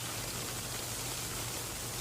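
Heavy rain and flash flooding on Mecca streets turned into fast-flowing rivers with submerged vehicles: a dense, steady roar of rushing water and downpour, continuous and unbroken throughout.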